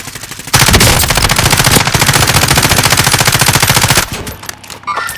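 Automatic gunfire in a multiplayer video game sounds as a loud, rapid burst of machine-gun shots, close and sustained for several seconds before breaking off into scattered noise.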